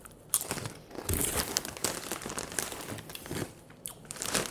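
Close, crisp crunching and crinkling of Doritos Blaze chips being bitten and chewed, with irregular sharp bursts and bag rustles.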